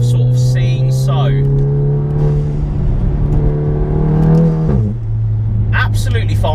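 A bagged MK7 Golf GTI fitted with a Golf R engine drones steadily through a corner, its engine note rising and then dropping at a gear change, heard loud from inside the cabin.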